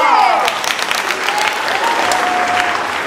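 An audience at an improv theatre final claps loudly and steadily through a short burst, with brief voices faintly mixed into the applause.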